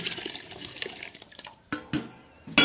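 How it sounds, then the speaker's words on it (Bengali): Soaked rice poured into a pot of water seasoned with cardamom, salt and oil for Muslim-style egg biryani, a soft watery rush followed by a few sharp splashes and clinks of the pot near the end. "চালটা আমি 30 মিনিট আগে ভিজিয়ে রেখেছিলাম। এবার এর মধ্যে ঢেলে দেব।"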